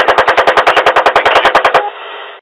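Rapid machine gun fire, about twenty sharp evenly spaced shots in a loud continuous burst, ending abruptly and followed by a steady ringing tail.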